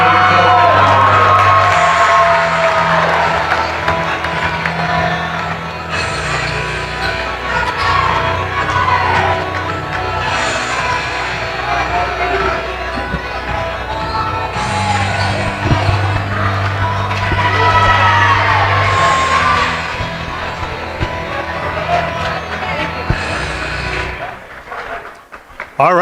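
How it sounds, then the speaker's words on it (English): A crowd at a girls' high school basketball game, Prairie Heights at Fremont, cheers and whoops loudly and steadily throughout, with a steady low hum and occasional voices underneath. "All right, crowd's fired up for the start of the game."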